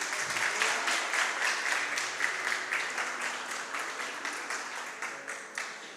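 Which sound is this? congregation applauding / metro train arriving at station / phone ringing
congregation applauding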